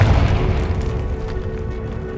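A Confringo blasting spell in Hogwarts Legacy lands as a single heavy boom that opens loud and rumbles down into a fading low roar over two seconds.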